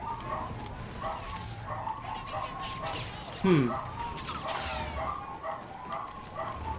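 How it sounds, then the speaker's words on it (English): Dogs bark in the background, mostly faint and distant, with one louder yelp partway through, under steady game audio and a brief murmur from a nearby voice. "I really apologize if you guys can hear the dogs"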